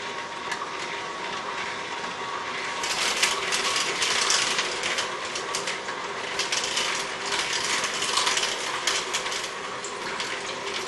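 An Omega VRT330 slow vertical juicer grinds pomegranates with a steady, continuous mechanical ratcheting and crunching whir, close and fairly loud, running alone without speech throughout.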